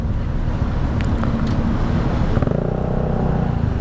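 Road traffic in a jam: a close, steady rumble of idling and creeping car engines with a low drone and some passing vehicle noise throughout, no talk.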